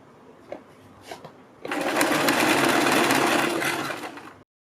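A sewing machine runs steadily for about three seconds, stitching the second side of a folded fabric strip for a kurti neck, after a few soft taps and handling sounds.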